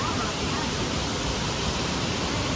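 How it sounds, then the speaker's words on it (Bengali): Heavy monsoon rain pouring down near Dassam Falls, a dense, unbroken hiss of falling water that stays loud and even from start to finish with no other sounds standing out. "প্রচণ্ড বৃষ্টি হচ্ছে।"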